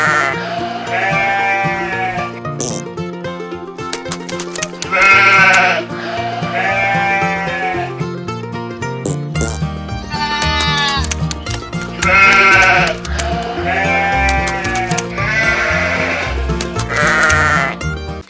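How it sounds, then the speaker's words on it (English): Sheep bleat again and again, loud and wavering, over a steady musical background. "Here are the sheep."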